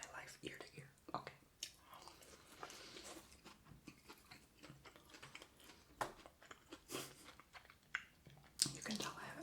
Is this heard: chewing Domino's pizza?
yes